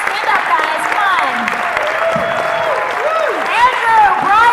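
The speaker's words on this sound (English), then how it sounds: "Why don't you give these guys one more big round of applause?" An audience at the Revenge of the Nerds reunion panel at Rhode Island Comic Con 2017 gives the cast a round of applause and cheers, with a voice speaking over the clapping.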